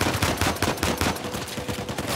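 Sustained rapid gunfire in Uncharted 4, a continuous loud rattle of automatic weapon shots with no pauses and no voices.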